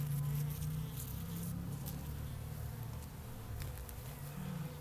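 Honey bees buzzing steadily and close during a beehive inspection, a continuous droning hum with faint handling noises from the comb.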